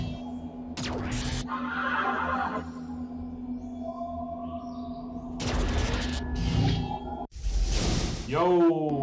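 A horse whinnies in the game Narita Boy, with swooshing effects and a steady electronic hum; a voice speaks briefly near the end.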